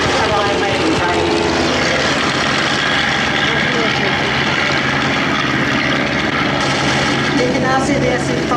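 WWI Fokker Dr1 triplanes fly in a Great War display at the Duxford Summer Airshow 2023, their rotary engines producing a loud, continuous buzzing drone throughout, with a commentator's voice over the PA.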